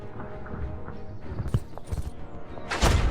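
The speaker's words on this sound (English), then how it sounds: "Horse!" Horse hooves clip-clop in the tank strategy game Total Tank Generals, a cavalry unit trotting steadily amid battle noise, with a louder burst near the end.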